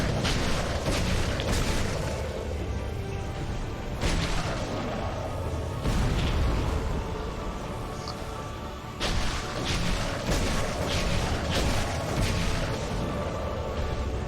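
Ancient Dragon boss in Dark Souls II unleashing fire breath: a sustained, roaring rumble with heavy low booms swelling and surging in waves across the whole stretch, dense and loud with no talking.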